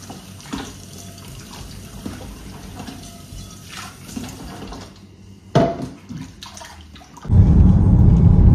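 Hot water runs from a tap: quiet thumps and handling noises give way to a loud, steady rush of flowing water for the last second or so, with no talking.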